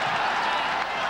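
A boxing crowd roars and applauds the new champion, Kiyoshi Hatanaka, carried on shoulders after his win over Pedro Decima; a dense, steady wash of cheering and clapping fills the arena at close range.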